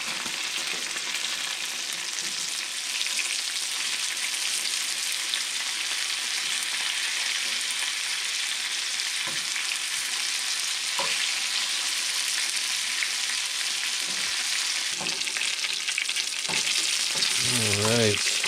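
Pieces of squirrel fry in a pan with a continuous, even sizzle and crackle, close and steady throughout, with a few faint clinks near the end.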